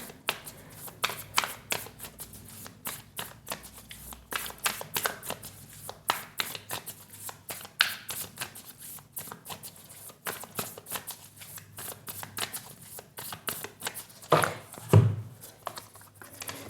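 Tarot cards are shuffled by hand in a long series of soft, quick riffles and taps, close and quiet, with no speech.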